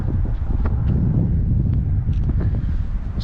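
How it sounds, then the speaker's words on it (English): Steady breezy wind buffeting a microphone outdoors beside a north-facing house, a loud continuous low rumble with faint rustling and no speech. "A little bit breezy out today."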